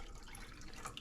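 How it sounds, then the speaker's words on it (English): Water poured into milk in a bowl for bao bun dough, a brief, soft, close trickle of liquid with no talking. "Add the water."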